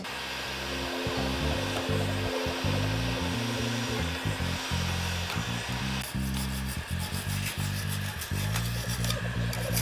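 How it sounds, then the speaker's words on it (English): A heat gun blows steadily, a loud continuous airy roar with a rumbling, fluttering low end, close by, as green paint is stripped off. "So I decided that I would try and strip them of paint. So I got my heat gun out"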